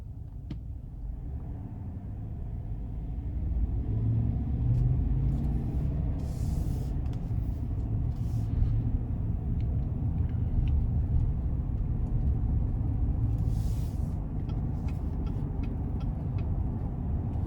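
Cabin of a 2020 Chevrolet Silverado 1500 High Country 6.2L 4WD pickup driving on a road, a steady low road and engine rumble that swells slightly and holds, with faint ticks and no talking.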